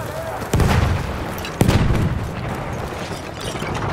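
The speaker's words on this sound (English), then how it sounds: "Heads up! Grenade out!" A grenade explodes in Battlefield 1 during a Conquest match: two heavy booms about a second apart, loud and close, each trailing into a rumbling decay over battlefield noise.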